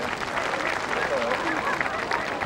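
Crowd applause and cheering for a horse on the cross-country course at the 2001 Burghley Horse Trials, a steady dense clapping wash filling the whole stretch with babble mixed in.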